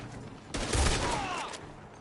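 A burst of gunfire rings out in the Red Dead video game, several overlapping shots forming a loud fusillade that starts half a second in and rolls away into a fading echo.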